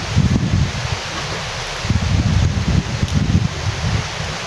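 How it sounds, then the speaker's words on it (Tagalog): Strong wind gusts outdoors beside a canal at an outdoor cooking spot, rushing and buffeting the microphone in loud uneven waves, with no voices. "Lakas ang hangin."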